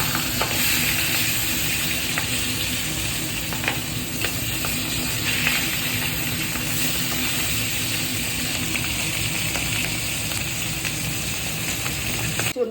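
A plentiful pour of mustard oil crackles and hisses in a wok for frying fish, a dense, even sizzle running loud and unbroken throughout with no voices.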